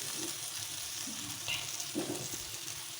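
Egg frying in a pan gives a soft, steady sizzle with faint crackles and occasional stirring noises, fairly quiet and with no voices.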